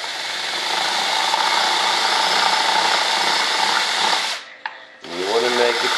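Power drill opening up a hole with a larger bit in an RC jet F-105 Thunderchief model build, a close, steady high whine that drops off near the end, then a brief restart.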